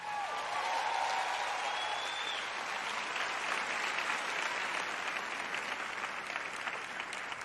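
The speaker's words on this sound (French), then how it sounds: "Allez, applaudissez plus fort que ça." Sustained audience applause at a French-language sermon, dense and even clapping from a large crowd that holds steady throughout and fades slightly near the end.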